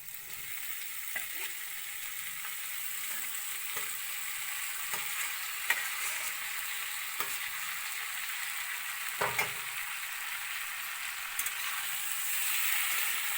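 Mashed green jackfruit fries in a pan with browned onion and garlic, a steady bright sizzle with occasional soft scrapes and knocks from stirring, close and continuous without speech.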